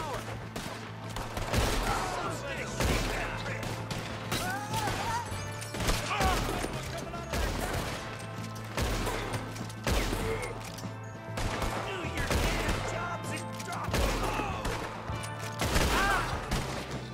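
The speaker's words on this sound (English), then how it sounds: "We got one shooting from the tower." Gunfire erupts from a tower in a Western-style video game, repeated sharp shots and clustered volleys arriving in loose pulses over a steady low hum, with voices now and then amid the shooting.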